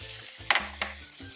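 Onions hitting a pan of hot extra virgin olive oil for Portuguese migas, giving a soft sizzle with a couple of brief bright bursts and faint utensil scrapes, short and close.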